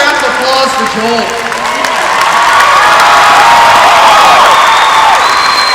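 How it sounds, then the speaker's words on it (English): A convention crowd at a state FFA gathering breaks into applause and cheering, a broad wash of clapping mixed with shouts and whoops that swells toward the end, with voices underneath. "Let's give a round of applause for Joel."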